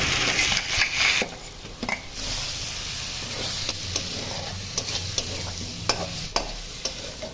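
Fried potatoes are tipped into a softened tomato curry and stirred in the pan, with loud scraping and clattering at first, then a steady close sizzle punctuated by spoon strokes.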